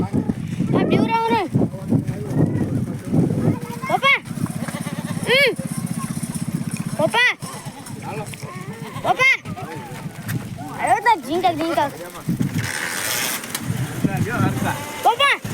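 Large goats bleat repeatedly in loud, wavering calls close by, with several animals overlapping, while people talk and a vehicle engine runs underneath.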